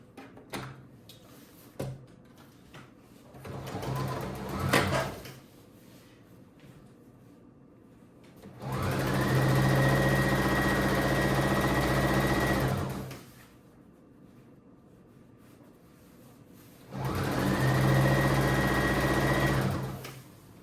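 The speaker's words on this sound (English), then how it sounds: "So I'm gonna zigzag first." A sewing machine runs two long zigzag passes over pants fabric, each a steady whirring buzz lasting several seconds, close by. Softer handling noises and shuffling of the fabric come before and between the runs.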